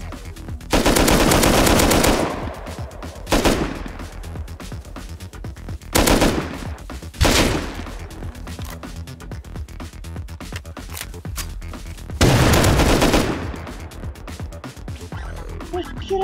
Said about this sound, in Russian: Ой, там стреляют, ты слышишь?